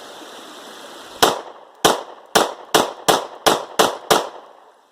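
A Glock 43 pistol fitted with a +2 magazine extension is fired in a rapid mag dump: eight sharp, loud gunshots spaced about half a second apart, each followed by a brief decaying echo, with no voices.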